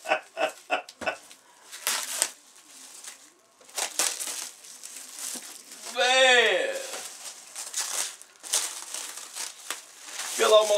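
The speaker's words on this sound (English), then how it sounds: "I'm just trying to figure out how to unwrap this thing" Close, irregular crinkling and crackling of plastic wrapping as a package is unwrapped by hand, coming in short bursts and longer rustles, with someone talking in between and a bird cooing faintly in the background.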